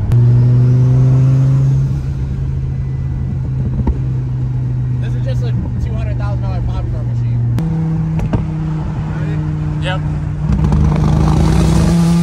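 A lifted Ford F350 truck engine revs and accelerates loudly through several gear shifts, with sharp crackling exhaust pops between, and people talking over it.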